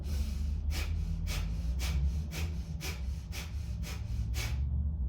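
Kapalabhati pranayama breathing: about ten rapid, forceful nasal exhalations in an even rhythm, close to the microphone, over a constant low background hum, ending abruptly.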